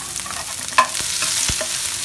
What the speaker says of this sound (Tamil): உளுத்தம்பருப்பு, வெங்காயம், கருவேப்பிலை ரெண்டுத்தையும் சேர்க்க போட்டுருவோம்.